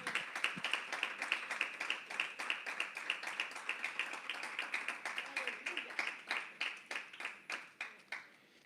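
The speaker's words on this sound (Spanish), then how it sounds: "Dale un aplauso al Señor." A congregation at a Sunday church service claps in a steady, fast rhythm, many hands striking together in regular beats that slow slightly toward the end, with faint voices underneath.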